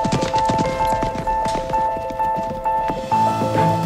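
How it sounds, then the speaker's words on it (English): Horse hooves clip-clop steadily on hard ground outside a historic English country house, sounding close and rhythmic, with a faint tonal hum and some background rustle. "Cue the horse."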